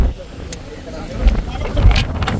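Strong wind buffeting the microphone on the Rangamalai hilltop, a continuous low roaring rush with gusty surges and a few faint brief sounds on top.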